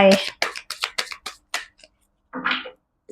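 Tarot cards are shuffled and five are drawn during a reading. Several quick, close card flicks and snaps come in a short burst, then a pause and one longer rustle, with a voice speaking at the start.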